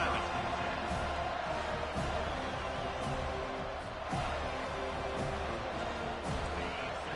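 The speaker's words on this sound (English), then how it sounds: "This crowd bringing an ear-splitting welcome to their visitors" A packed stadium crowd in an NCAA college football video game gives a continuous, dense roar that stays fairly level, with a commentator talking over it.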